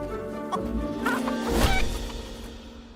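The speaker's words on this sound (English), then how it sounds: "It's just kicking chickens around." Video game chickens in Fable squawk and cluck as they are kicked around, with a thump and crash in the middle over a backdrop of game music, loud and close.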